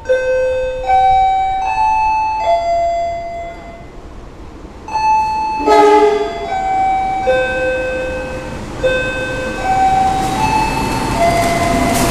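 Railway level-crossing warning bell at Kediri station as the Kahuripan train arrives, a loud, steady stream of repeated ringing electronic chime tones that rise over rumbling platform noise near the end.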